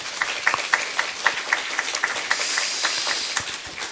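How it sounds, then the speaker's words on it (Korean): Applause at a Busan public forum on suicide bereavement, a short burst of clapping from an audience with no voices over it. "박수 한번 보내주세요."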